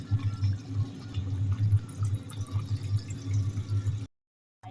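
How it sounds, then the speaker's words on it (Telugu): Water poured from close by into a pan of chicken curry makes a steady, low gurgling splash for about four seconds, then stops abruptly. "ఇప్పుడైతే వాటర్ అయితే పోసుకుందాం"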